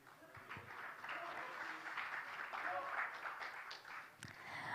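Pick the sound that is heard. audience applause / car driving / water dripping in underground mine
audience applause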